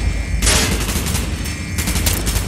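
Gunfire in the video game Call of Duty: Black Ops, a loud burst of rapid shots followed by a brief lull and then a second volley, alone and close.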